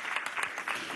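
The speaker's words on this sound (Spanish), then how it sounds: "darles un gran aplauso a estos compatriotas" Applause from a crowd at a Constituent Assembly commission meeting with a women's sector group, a dense wash of clapping at moderate volume with a few louder bursts, filling the whole moment.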